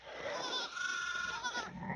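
A young goat kid on a farm gives a drawn-out, wavering bleat, fairly faint but clear, with a short pause before a second cry starts.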